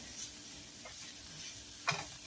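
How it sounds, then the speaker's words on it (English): Onions saute in a pan for stuffed cabbage rolls, a quiet steady sizzle with a few light scraping and clinking stirs, one sharper utensil tap near the end, no voices. "As you can see, the onions are sauteing."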